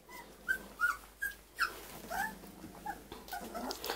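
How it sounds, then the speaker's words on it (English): Puppies give a string of small, high whines and yips, roughly eight short bursts in a row, close by and fairly quiet, with little sign of low growling. "Who's growling?"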